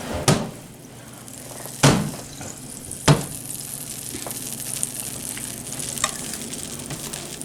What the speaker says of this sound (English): My butter is melting.